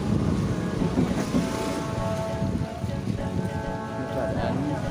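Big ship's engine droning steadily while passengers board near Banda Aceh, a continuous low rumble mixed with wind buffeting the microphone and background voices.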